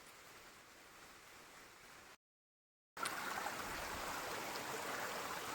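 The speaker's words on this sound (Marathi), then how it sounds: "आता आला आहे मोठा पाऊस आला आहे तिकडून" Heavy rain roars as a steady broadband hiss, briefly cut to silence before resuming louder and denser.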